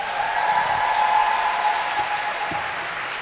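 Conference audience applauding in a hall, a steady, moderately loud wash of clapping that holds evenly for a few seconds with no talk over it.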